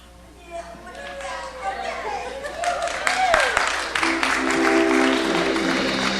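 Children at a church service cheer and clap, growing louder and more lively over several seconds, with excited young voices, laughter and scattered clapping mixed through the noise.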